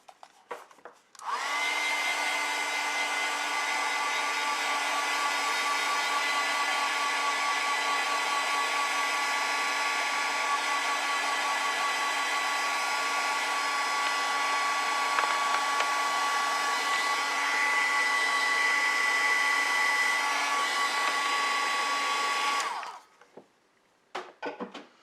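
A hair dryer blows across an ink and wash flower painting, a steady loud whirring hum that runs unbroken for about twenty seconds and then cuts off.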